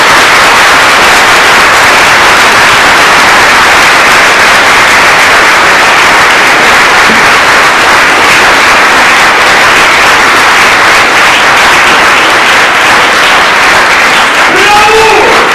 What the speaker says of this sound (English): So one more round of applause for these fabulous women